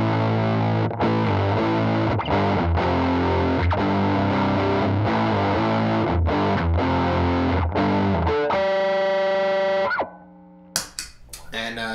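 An electric guitar played through a fuzz distortion pedal with its filter turned clockwise chugs out thick, saturated chords in a driving rhythm, then rings out on a sustained note before a short scraping pickup at the end.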